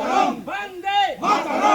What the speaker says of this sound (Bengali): স্লোগান দিচ্ছে।